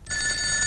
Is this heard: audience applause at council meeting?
no